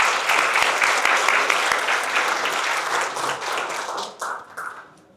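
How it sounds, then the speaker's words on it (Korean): An audience at a Seoul National University College of Natural Sciences 50th anniversary event applauds to welcome a professor of organic chemistry and catalysis, with dense, sustained clapping that thins out and fades toward the end. "유기화학과 촉매 분야에 속하 계신 토스트 교수님을 큰 박수로 맞이해 주시기 바랍니다."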